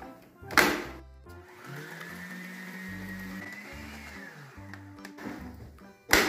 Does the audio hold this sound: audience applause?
no